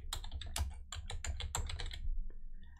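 Fingers typing on a computer keyboard, a quick run of crisp, close key clicks for about two seconds, then it stops, leaving a faint hum.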